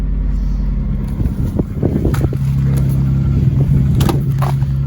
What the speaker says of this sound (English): I'm gonna let the car warm up and do its thing